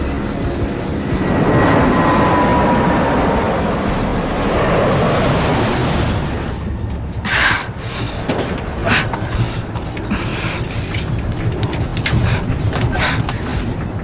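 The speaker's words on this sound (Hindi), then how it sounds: "हमारे जेट प्लेन के चारों तरफ हैं।" Jet aircraft roar past in a continuous loud rushing drone that swells early, then gives way to a rougher, uneven wash of engine noise with intermittent bursts.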